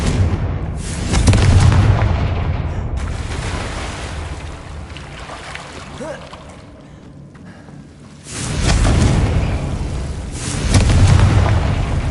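A Confringo spell explosion in Hogwarts Legacy: heavy, booming blasts swell loudly at the start, settle into a lower rumbling tail, then two more strong booms surge near the end.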